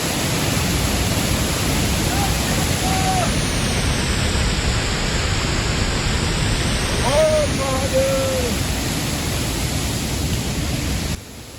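A swollen mountain stream on the Madmaheshwar trek, pressure raised by heavy rains, roars as a constant loud broadband rush with no breaks, with a couple of faint birdlike chirps briefly above it.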